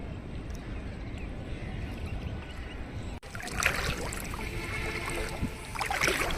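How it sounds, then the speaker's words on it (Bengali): A boatman rows a wooden boat on the Turag river on a rainy day, with soft water splashes and trickling around the hull over steady outdoor background noise, louder and busier in the second half. "মাঝি নৌকা বাইতেছে।"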